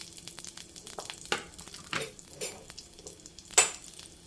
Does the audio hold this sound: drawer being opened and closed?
no